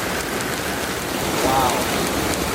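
Heavy rain pours down hard on a farm while the sun is still out, a dense continuous hiss of drops on surfaces, with a person briefly exclaiming over it.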